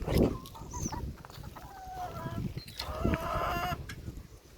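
Farmyard chickens clucking near a goat shed, several short calls and squawks scattered over a busy background with thumps, clatter and rustling.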